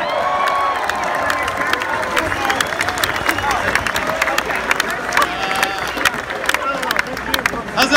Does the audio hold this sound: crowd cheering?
yes